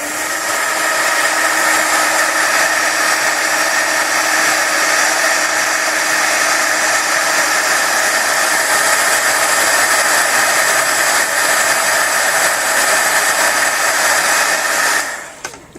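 A handheld heat tool blows loudly and steadily at close range, melting embossing powder on watercolor paper, then cuts off abruptly at the end with no talking.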